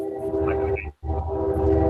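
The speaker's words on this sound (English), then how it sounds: "And here's a train coming." A train passes nearby, a steady rumbling roar with a sustained tonal hum that briefly drops out, then returns just as strong.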